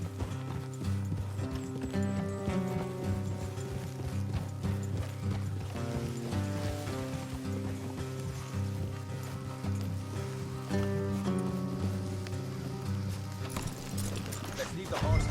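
Horses gallop in Red Dead Redemption, steady rhythmic hoofbeats clopping along with game music and mechanical rattles layered underneath, continuous and fairly loud throughout.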